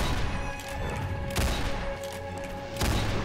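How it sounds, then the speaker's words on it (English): Shotgun blasts in a spooky community-made mansion map of a video game, heavy booming shots landing about every second and a half over constant game music and background noise. "I am definitely doing a lot more damage with my shotguns"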